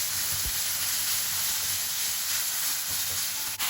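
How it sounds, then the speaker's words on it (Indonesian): Chopped chicken meatballs and boiled fusilli are sautéing in a pan, giving a steady close hiss and sizzle with a few soft stirring knocks, and nobody speaking. "Pertama-tama, aku tumis dulu bakso ayamnya yang udah aku potong kecil-kecil."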